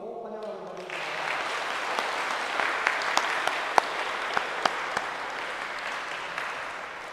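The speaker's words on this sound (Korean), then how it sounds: "우리 박수로 환영하도록 하겠습니다." Congregation at a Sunday church service clapping to welcome the pastor, starting after a brief tonal sound and swelling into steady applause, with a few sharper individual claps standing out near the middle before it holds to the end.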